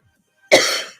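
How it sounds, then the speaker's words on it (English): A single sharp, loud cough from a person close by, breaking after a short silence and fading out over about half a second. "I'm still not well with my cough or something"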